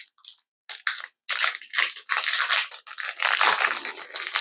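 Crinkly plastic wrapper of a Great Value caramel and nougat candy bar being opened, with loud, close crackling and crunching in bursts that become a sustained rustle, no voices.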